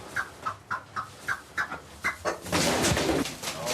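A young pair of ruddy-headed geese in a zoo stall: a regular series of short, close honking calls about every quarter second, followed by a louder burst of rustling and flapping noise, with no talk.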